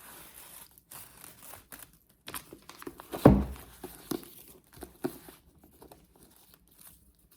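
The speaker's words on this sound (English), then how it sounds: "Ooh, the whole paper just ripped off." Wrapping paper tearing and crinkling off a wrapped mystery book, a series of close, dry rips and rustles with one louder tear in the middle, no one speaking.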